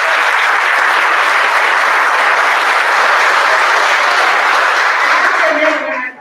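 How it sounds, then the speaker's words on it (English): A school assembly crowd applauds sixth-grade award recipients, with dense, sustained clapping from many hands that holds steady for several seconds before tapering off abruptly at the end. "Let's give them a big round of applause."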